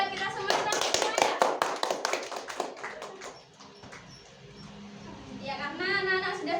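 A sixth-grade class claps along in a classroom, a quick burst of sharp, close hand claps near the start that fades into quieter movement and then children's voices rising at the end.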